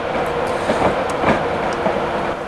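A Class 91 electric train in VTEC remembrance livery runs in Train Simulator 2017, giving a steady rolling rumble with faint rhythmic wheel clicks.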